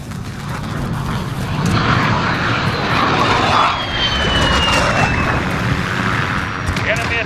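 An enemy VTOL aircraft in Call of Duty: Modern Warfare roars steadily overhead with a loud, continuous engine drone and a slowly sweeping whine, amid dense battlefield noise.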